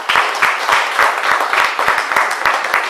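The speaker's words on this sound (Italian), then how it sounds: "vorrei che faceste un applauso, un altro, a tutti i volontari del Rifugio Fata" Audience applauds the animal shelter volunteers at a calendar presentation, steady rhythmic clapping that sounds fairly close and stays even for the few seconds heard.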